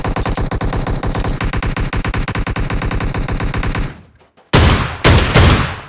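Video game gunfire: a sustained rapid burst of automatic shots runs for about four seconds, cuts to near silence, then returns as two more loud, dense bursts close up, with no voices.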